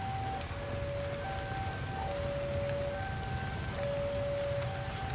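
Steady rain hisses evenly over rice paddies in a village, with faint sustained tones drifting in the background and no voices.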